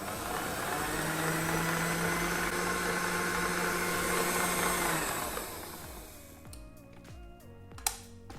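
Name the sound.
electric mixer mixing meringue into Swiss meringue buttercream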